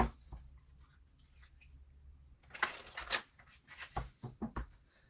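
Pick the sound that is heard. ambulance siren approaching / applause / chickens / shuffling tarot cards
shuffling tarot cards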